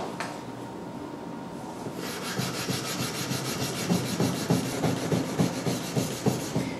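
Steady rhythmic rasping of sandpaper against a knife blade, quickening into a regular back-and-forth scrubbing pattern, close up with no talking.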